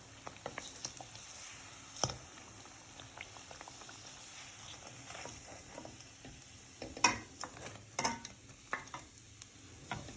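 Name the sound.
bread snack deep frying in oil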